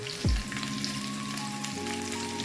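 Chopped green chillies frying in a pan during cooking of a pui shaak (Malabar spinach) chorchori: steady, moderate sizzle and crackle throughout, close and continuous, with a brief low thump near the start and no talk.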